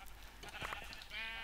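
A sheep bleats in a video game, one short, faint wavering bleat set against a quiet background.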